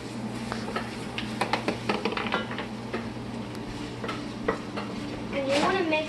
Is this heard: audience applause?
no